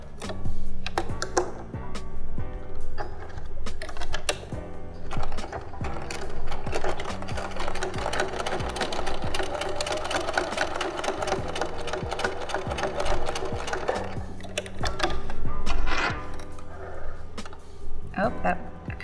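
Close, busy whirring of a sewing machine running a tiny edge stitch along a bag, starting and stopping in bursts with rattling clicks between runs, continuing almost throughout.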